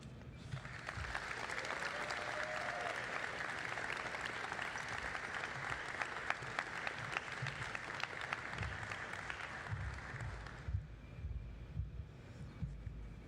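A crowd at an athletics hall of fame induction ceremony gives a long, sustained round of applause, even and continuous for about ten seconds before it fades out, leaving quiet room tone.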